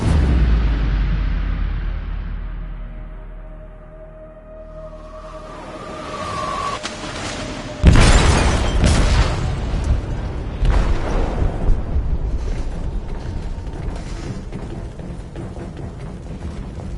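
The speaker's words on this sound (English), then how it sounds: "They detonated an explosive in the hold." A loud, deep explosion in a ship's hold during a video game: a sudden boom with a broad crash, followed by sustained rumbling and debris noise that continues for several seconds.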